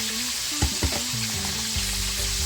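Chicken for Jamaican barbecue fried chicken hisses and crackles steadily in hot oil, a close, continuous sizzle broken by a few soft thumps and scrapes.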